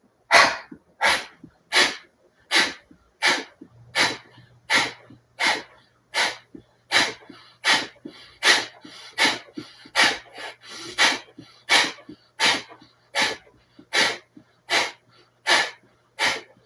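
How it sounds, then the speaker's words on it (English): Deep, slow breaths during a gentle seated meditation, about two dozen evenly spaced airy inhales and exhales close to the microphone, each roughly a second apart with a soft low hum underneath. "Deep breath in."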